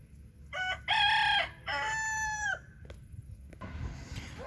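A rooster crows loudly and near in a poultry breeding yard, two long harmonic calls in a row, followed by quieter scratchy farmyard noise and possible faint hen clucks.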